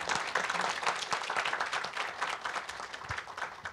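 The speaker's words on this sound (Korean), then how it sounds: "큰 박수로 맞이해 주시기 바랍니다." Steady applause from a forum audience, many hands clapping densely and continuously at a moderate distance, with no voices over it.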